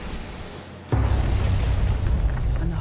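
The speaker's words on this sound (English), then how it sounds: "And the whole ship goes up." A First World War battleship blows up at the Battle of Jutland as its magazine ignites, heard as a sudden heavy boom that swells into a loud, sustained low roar.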